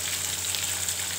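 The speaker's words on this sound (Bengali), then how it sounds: "ভোলা মাছটা ভাজা হচ্ছে, এটা লেজ ভাজা হয়ে গেছে, মাথা আর এই মাছ ভাজা হচ্ছে।" Bhola fish, head and tail pieces, frying in a pan as part of a mustard-poppy seed dish, giving a steady, even sizzle and hiss with no talk.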